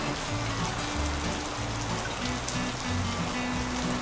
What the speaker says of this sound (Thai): ตอนนี้มันฝนตก